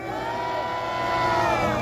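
An audience cheers and applauds for Professor Kim Byung-yoon, a steady crowd roar with shouts layered over it that swells slightly toward the end. No clear speech stands out.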